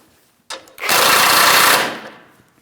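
A ball joint nut on a 2015–2025 Ford Transit 250's front suspension is tightened: a sharp click, then a loud, steady buzzing rattle for just over a second that fades away.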